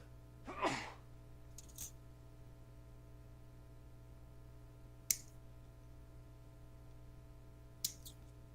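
A single quiet sneeze near the start, during a voice-chat session of building Gunpla plastic model kits, over a steady low room hum, with a few faint clicks afterward.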